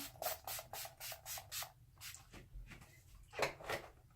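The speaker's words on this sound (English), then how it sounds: "During the winter, I use the Chill Makeup Setting Spray by Urban Decay." A quick series of soft, hissy spritzes of Urban Decay Chill makeup setting spray in a steady rhythm, then a pause and two more bursts, close and fairly quiet.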